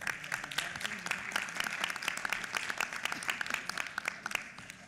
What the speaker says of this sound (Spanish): Recibimos con un caluroso aplauso al maestro Francisco Javier Martínez Esponda.